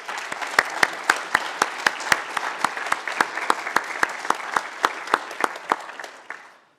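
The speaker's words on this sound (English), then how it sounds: "Can we give them a big round of applause?" Sustained applause from an audience honoring volunteers at a welcome event, dense rhythmic clapping that stays steady and fairly loud for several seconds before fading out.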